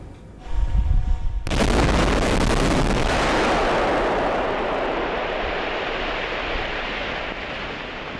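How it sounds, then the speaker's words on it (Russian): A massive first industrial blast at the Verkhnemunskoye diamond deposit in Yakutia erupts after a brief quiet start, a loud deep boom that rolls into a sustained roar and slowly fades. "Разрешите запустить Верхнемунское месторождение в промышленную эксплуатацию и осуществить первый промышленный взрыв."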